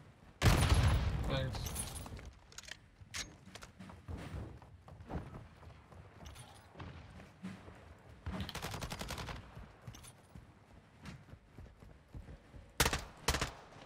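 Bursts of rapid video game gunfire, some in machine-gun strings and some as single shots, crackle against a quieter game backdrop while a player talks over it.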